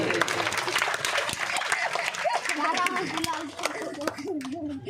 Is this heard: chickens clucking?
no